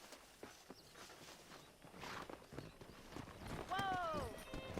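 Horse hooves clopping in the Western video game Red Dead Redemption, wild horses roaming near a ranch, steady hoofbeats under game sound and talk, with a horse whinny near the end.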